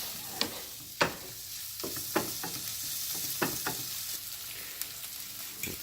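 A vegetable omelet mixture with turmeric is mixed in a bowl, with soft continuous swishing and several distinct clinks of a utensil at irregular intervals, close, with no voices.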